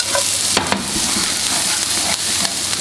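Onion, garlic and thyme hitting a frying pan just used for shrimp give a loud, close, continuous sizzle, with a couple of quick scraping stirs early on and no voices.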